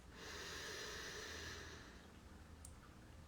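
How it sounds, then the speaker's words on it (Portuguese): A slow, deep inhale through the nose during a guided breathing exercise, close and breathy, swelling then fading over a couple of seconds, with no speech. "Inspira a última vez."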